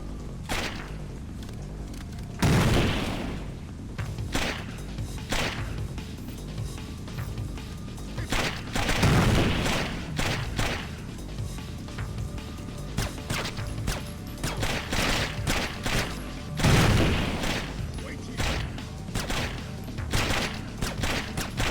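Frag grenade blasts and gunfire in the Splinter Cell stealth game, with repeated sharp shots and several heavier booming impacts spread across a busy, continuous combat soundscape.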